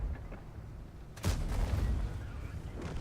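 Tank cannon fire from an AMX 30b in a video game: a single sharp, loud blast about a second in, with a rumbling tail over steady background noise, no talking.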